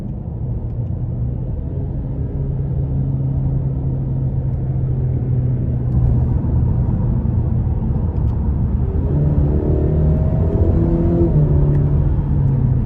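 A 2021 Cadillac CT5's 2.0-litre engine hums low and steady from inside the cabin, rising in pitch as it accelerates, a smooth, unstrained drone with no talking.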